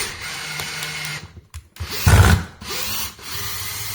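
A DeWalt DCD778 cordless drill whirs in short bursts at a low torque setting, stopping and restarting, with one louder, rougher spin near the middle; nearby and with no speech.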